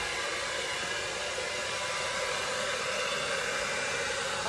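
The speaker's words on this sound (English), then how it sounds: "hairdryer out, and away we go." A hair dryer blows steadily on poured acrylic paint during a Dutch pour painting session, a constant close airy whoosh and hiss with no pauses and no talk.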